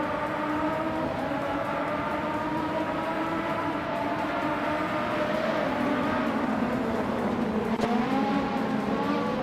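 A 1988 McLaren MP4 Formula One car engine in a racing video game at Castle Combe, a steady sustained high-revving drone with smoothly shifting pitch, loud and continuous with no talk.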